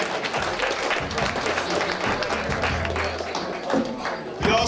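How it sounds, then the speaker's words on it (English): A banquet audience claps for a USA national champion, a broad, fairly even wash of hand claps filling the room, with faint voices and a murmur mixed underneath before a louder bump at the end. "let's clap it up for Natalie Dove"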